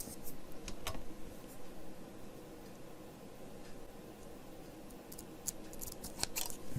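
Scissors snip through craft material in a few sharp, close cuts, scattered over a soft, steady background hiss.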